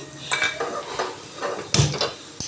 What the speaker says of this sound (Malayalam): നമ്മളൊരു പാത്രം കഴുകി അടുപ്പത്ത് വെച്ച്